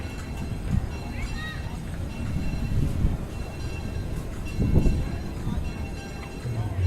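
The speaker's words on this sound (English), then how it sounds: "There's the train." A small amusement park train at Cedar Point rumbles past nearby with low rolling noise and a brief squeal, while people chat in the background.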